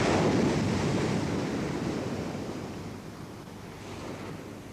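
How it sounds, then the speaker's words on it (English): Ocean waves break and surge against the shore in a continuous loud roar, strongest at the start and easing slightly as the wash spreads out, with some wind noise mixed in. "Stand and watch waves like this throwing themselves at the shore"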